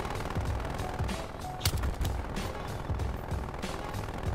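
Rapid automatic gunfire from sentry guns in Call of Duty Cold War, a steady stream of quiet, dense shots with one sharper crack partway through, and no talking.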